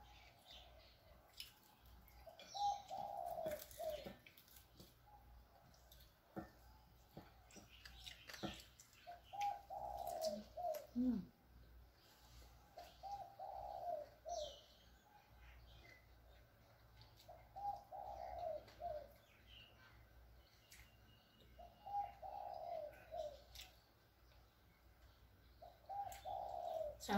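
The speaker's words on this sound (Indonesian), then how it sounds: "Sambil mendengarkan tuh ya, burungnya berkicauan ya." Pigeons or doves coo in repeated soft phrases every few seconds outdoors, with faint chirps from other birds scattered around, all fairly quiet and distant.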